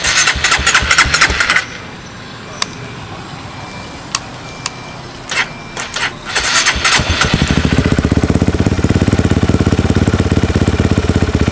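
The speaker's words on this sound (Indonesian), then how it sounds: "kita coba starter" A motorcycle fitted with a Juken 5 ECU is started after a few scattered clicks and knocks, then settles into a steady, even idle that chugs on close by until the end.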